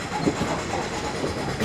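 An ICF three-tier coach on the Hyderabad–Kollam special rolls into platform 2 at Guntur Junction, heard from inside as a steady rumble with faint rhythmic wheel clacks throughout.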